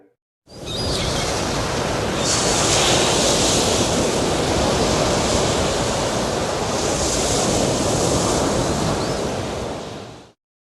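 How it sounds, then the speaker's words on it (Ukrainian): Steady roaring wind noise blows hard and unbroken for about ten seconds, loud and close, with no voices. "буря."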